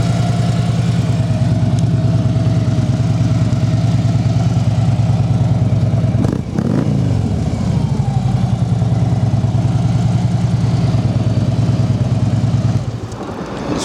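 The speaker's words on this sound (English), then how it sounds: "These mufflers have a real good sound to them." Harley-Davidson Street Glide FLHX motorcycle idling steadily through its mufflers, a loud close low burbling rumble with one brief rev blip midway before settling and cutting near the end.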